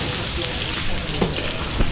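Garlic and onion fry for caldereta at a catered village fiesta, making a dense, steady close sizzle with a couple of faint utensil knocks and no clear speech.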